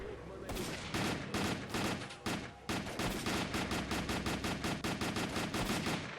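Gunfire from a rooftop shooter in S.T.A.L.K.E.R.: Call of Pripyat during a hospital assault, heard as loud, near-continuous rapid shots and bursts with short pauses.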